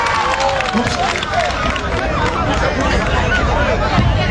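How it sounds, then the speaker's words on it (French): A fanatical audience applauding hard and shouting in victory, a dense continuous roar of clapping and many overlapping voices that stays loud and close throughout. "le public fanatique applaudit fort et crie victoire"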